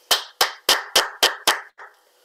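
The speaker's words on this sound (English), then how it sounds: "with a virtual round of applause, huge applause, let's welcome Shri Manoj Govindraj" Six sharp, evenly spaced claps ring out loud and close, followed by one softer final clap, with no voices over them, marking applause to welcome a guest at an online devotional gathering.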